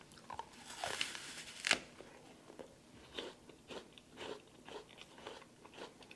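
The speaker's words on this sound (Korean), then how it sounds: "디저트로 사과 하나 먹을게요." An apple being bitten and chewed at close range, a couple of sharp crisp bites followed by a run of soft, moist crunching chews, quiet and without talk.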